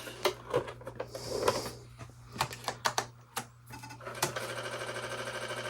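Disk drive reading a clear-faced disk, giving close mechanical clicks and ticks in irregular bursts, then a steady rapid whirring buzz toward the end, heard alone.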